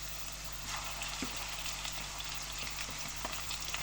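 Chicken pieces frying with browned onions in a pan, about 700 grams going into the Pakistani-style white lobia chicken curry; a steady close sizzle and crackle runs throughout with small stirring clicks and no talking.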